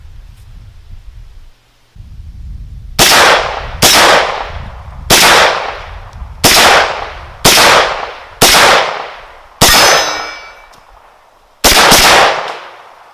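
Eight loud gunshots crack out one at a time from a gun fed by a 33-round Clip-A-Zine, fired at sodas and a pumpkin, each shot about a second apart with a ringing decay, near and sharp, no talking.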